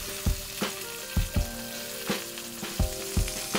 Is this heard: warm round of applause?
no